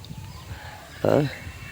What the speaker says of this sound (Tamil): பாருங்கள் இந்த கான குயில்